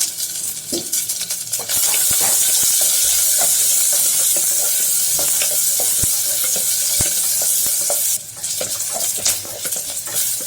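Chopped garlic and halved shallots sizzle steadily in hot oil, loud and close, with occasional stirring clicks and scrapes; no one speaks.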